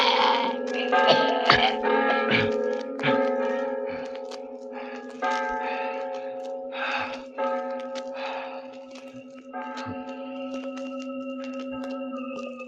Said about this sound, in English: You'll never ring those cursed bells again